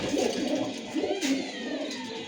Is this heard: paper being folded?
no